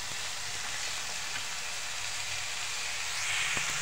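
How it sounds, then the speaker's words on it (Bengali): Onions frying in a pan for mughlai chicken, a close, steady hissing sizzle with faint crackles throughout, no voices. "পেঁয়াজটাকে ভাজা হতে দেবো এবার"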